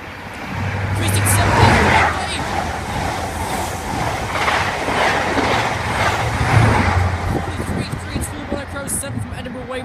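A train rolls through Peterborough station, a loud, steady rumble with rhythmic rail clatter that swells and fades over about ten seconds. Voices are heard over it.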